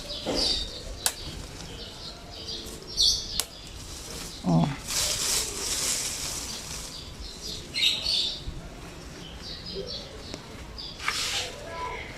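Pet lovebirds chirp in short high bursts and flap their wings in brief fluttering rustles, close by, with a faint exclamation from a person.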